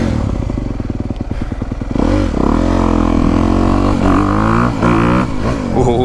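A 2022 Honda CRF250R dirt bike rides close by, its engine rising from a choppy, clattering idle into loud, sustained revving that climbs and falls in pitch, with no one speaking.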